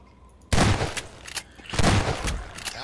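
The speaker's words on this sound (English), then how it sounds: "I'm just gonna shoot you preemptively" Two bursts of gunfire in a Garry's Mod horror map, each a loud, sharp onset with ringing tail, about a second apart, then fading with lighter shots.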